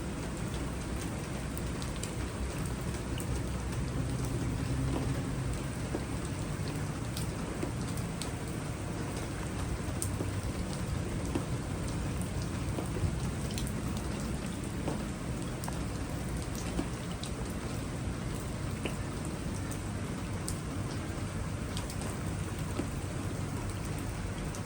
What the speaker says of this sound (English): it's pouring like crazy